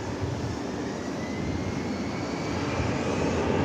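An American Airlines jet takes off at DFW, a broad steady engine roar that slowly builds in loudness, heard from some distance with no voices.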